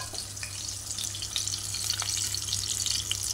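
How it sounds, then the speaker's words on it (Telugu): Eggs frying in hot oil in a pan, a steady close sizzle with occasional small pops throughout, no voices. "గుడ్లు వేస్తున్నానండి. మనం ఎర్రగా వేపుకోవాలి."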